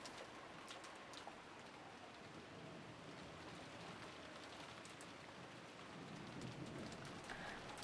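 Heavy rain pours down steadily as a visual novel game sound effect, a dense, even hiss of drops striking surfaces, with scattered sharper splashes and a faint low rumble underneath.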